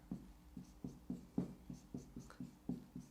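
Pen strokes on paper while sketching a small piano keyboard, a steady series of short scratchy marks about every quarter second, close and fairly quiet with no talk.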